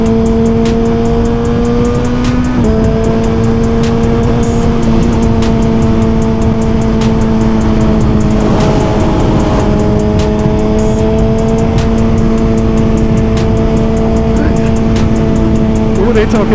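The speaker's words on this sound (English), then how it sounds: "bike sounds good today" A motorcycle engine runs steadily and loud for the whole stretch, its idle tone shifting pitch once early on and again midway, with a voice speaking over it.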